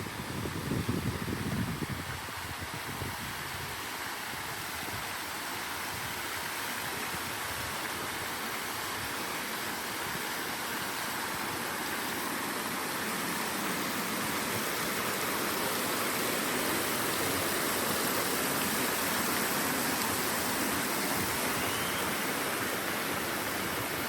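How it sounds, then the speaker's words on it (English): Ocean surf near a beachfront resort, a continuous broadband wash of breaking water that stays steady and fairly close, growing a touch louder toward the end. "And straight ahead is the ocean"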